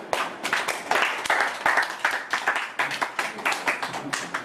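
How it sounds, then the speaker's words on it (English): Audience clapping at a school presentation, a moderately close round of uneven hand claps from a small group, steady and rhythmic for several seconds with no voices. "Everyone give them a clap."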